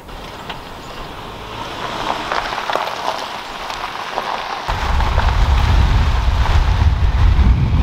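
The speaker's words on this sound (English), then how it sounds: "It is windy" Gusty wind roars and buffets outdoors in cold early spring at Sax-Zim Bog, growing into a heavy low rumble against the microphone partway through, with a hissing, rain-like texture.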